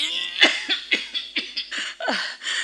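A person coughs in a run of about eight harsh, closely spaced coughs, close and fairly loud, with no other sound.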